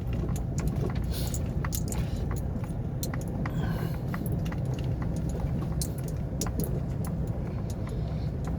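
An Isuzu 1.9 truck fitted with a replacement rear differential gear pulls away and drives on, giving a steady, close engine and road rumble with a few light rattles throughout and no talking.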